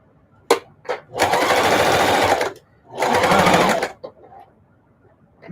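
A sewing machine stitches thick denim with a 3.5 mm stitch in two sustained loud runs, forward then briefly back, with a few short clicks and knocks before and after.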